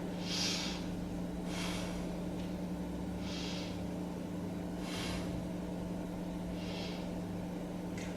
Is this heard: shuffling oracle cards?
no